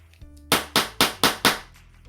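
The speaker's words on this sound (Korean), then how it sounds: "손으로 고정시킨 다음에 손을 떼고 망치질을 하세요." Five sharp, evenly spaced hammer strikes drive nails into a wooden board for string art, loud and close with crisp attacks and short decays, alone without talk.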